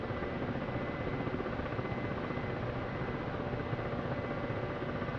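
Ka-50 attack helicopter in the DCS flight simulator, a steady dense rotor and turbine drone filling the cockpit, loud and continuous throughout with no talk.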